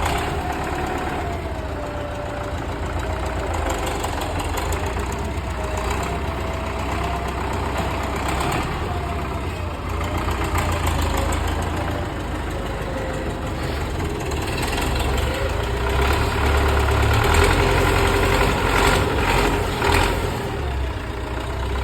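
A farm machine's mid-pitched diesel engine idles steadily on a cattle farm while it reverses, tips and lifts a round bale of feed, the rumble holding level throughout with a slight rise near the end.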